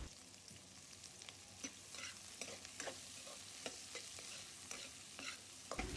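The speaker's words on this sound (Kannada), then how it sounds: "ಈಗ ಅದೇ ಕಡಾಯಲ್ಲಿ 1-2 ಸ್ಪೂನಷ್ಟು ಎಣ್ಣೆ ಹಾಕಿ ಈರುಳ್ಳಿ, ಬೆಳ್ಳುಳ್ಳಿ ಹಾಗೆ ಸ್ವಲ್ಪ ಶುಂಠಿ ಹಾಕ್ಕೊಂಡು ಚೆನ್ನಾಗಿ ನೀವು ಫ್ರೈ ಮಾಡ್ಕೋಬೇಕಾಗತ್ತೆ" Onion, garlic and ginger frying in a spoonful or two of oil in a kadai for a mushroom curry, a steady close sizzle broken by repeated scraping and stirring clicks.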